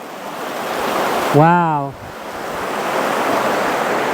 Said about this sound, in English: Here's that stream that's born from the mountain and it goes into a larger river.